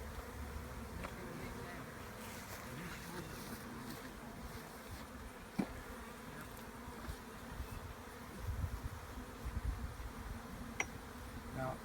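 Honey bees in a bee beard make a dense, continuous buzzing hum close by, steady throughout with small fluctuations, faint clicks and handling sounds, and no clear talk.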